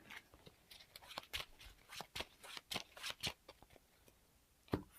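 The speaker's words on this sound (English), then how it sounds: "we each have to shuffle the top card into the encounter deck" Playing cards for a Marvel Champions card game are shuffled into the encounter deck, giving quiet, close riffling and snapping in uneven bursts, with a sharper final tap.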